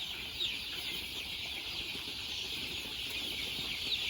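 Chickens of three crossbred lines packed into a small, crowded coop, a constant dense hiss of clucking and rustling with a few brief wing-flap bursts, no voices.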